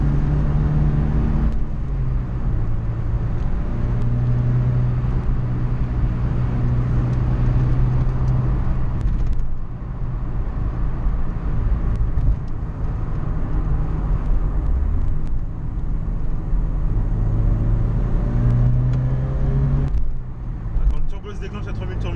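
A Ford Sierra RS Cosworth accelerating on the road, its engine drone climbing in pitch, easing through a shift and climbing again, heard from inside the car with someone talking over it.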